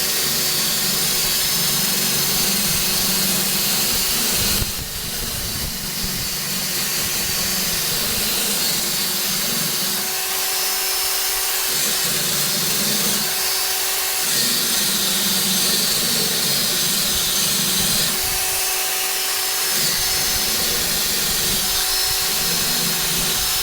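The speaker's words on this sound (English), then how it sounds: "Just a wire wheel on a drill." A loud, steady whirring drone of a wire wheel spinning on a drill, cleaning a swamp cooler shaft, grinding continuously with brief dips in pitch as it bears down.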